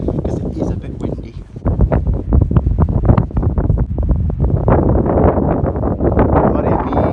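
Wind buffets a microphone outdoors near a tidal coastline, making a constant low roaring rumble that swells and dips, with a voice faintly present beneath it.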